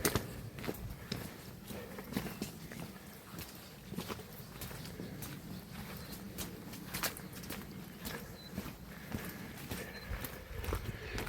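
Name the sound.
horses walking, hooves clip-clopping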